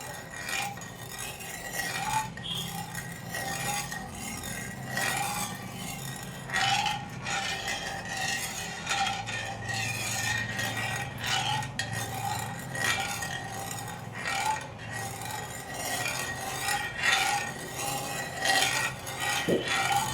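A spoon scrapes and stirs Mumbai halwa in a pan over a medium gas flame, a continuous rasping, clinking stir with soft metallic ticks and a low steady hiss beneath, close and unbroken by speech.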